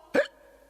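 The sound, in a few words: cartoon teacher hiccuping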